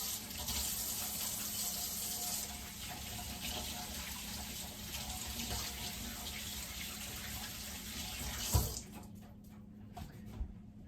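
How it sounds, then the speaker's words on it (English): Kitchen tap running steadily for handwashing, a close, continuous splash of water into a sink that stops abruptly near the end, followed by a couple of light knocks. "let me wash my hands first"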